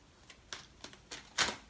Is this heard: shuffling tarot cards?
yes